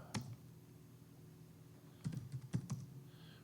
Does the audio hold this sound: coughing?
no